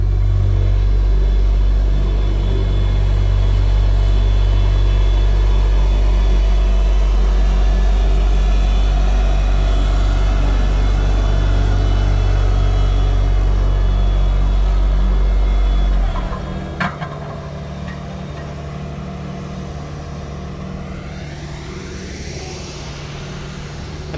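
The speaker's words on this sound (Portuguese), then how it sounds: "passar o rolo aqui, né, o rolo chapa aqui na capa aqui, o rolo de pneu" Road rollers, a steel-drum roller and a pneumatic-tire roller, compacting cold-mix asphalt on a paving job: a steady heavy diesel rumble that drops away about two-thirds through, leaving quieter engine noise and faint outdoor sounds.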